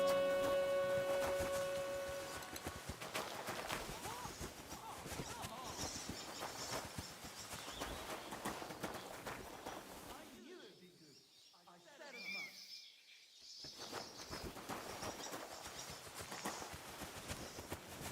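Horse hooves clip-clop at a steady walking pace in the Kingdom Come Deliverance II video game, close and continuous over outdoor ambience with faint birdsong, while a brief spoken line sounds near the start.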